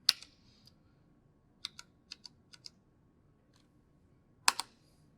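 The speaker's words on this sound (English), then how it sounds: "we'll restart SSH by typing this command in" Someone types a command on a computer keyboard while restarting SSH on a VPS. A loud key click opens it, a short burst of keystrokes follows, then a heavy double tap like the enter key, all close in a quiet room.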